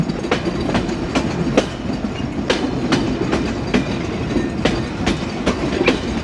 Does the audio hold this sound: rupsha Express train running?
yes